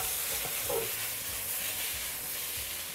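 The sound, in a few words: stirring carrots into braising tofu pot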